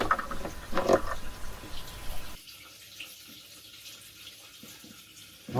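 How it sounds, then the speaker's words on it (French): Petrol flows into the fuel tank of a Fiat 500 with a starting and misfire fault, making a gurgling, splashing rush for a couple of seconds before fading to quiet. "il est en train de remplir le réservoir en même temps que je remonte la pompe. Il est en train de mettre de l'essence."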